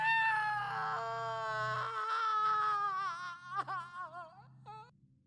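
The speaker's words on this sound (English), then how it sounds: "you crawl out and cry" A person crying, a sustained wavering wail that breaks into sobbing, gasping bursts toward the end, fairly close over a faint low hum.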